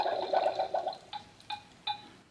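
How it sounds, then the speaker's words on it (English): A Disney Encanto toy cauldron bubbles with potion, making a gurgling burst followed by three softer, spaced bubbling pops, close and quiet. "It's bubbling."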